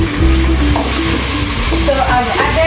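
Onions frying in a pot for pilau, loud and close, with steady sizzling and repeated scraping strokes of a spoon stirring them throughout, no talk.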